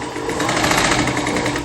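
A sewing machine runs steadily, stitching a kurti seam in a continuous close, loud mechanical whir with rapid needle rhythm and no pauses.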